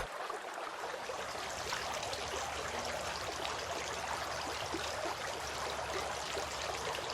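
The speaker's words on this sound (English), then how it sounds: "Rinsing the mouth." Water running and splashing steadily while the mouth is rinsed during ablution, a continuous soft trickling stream heard alone and fairly faint.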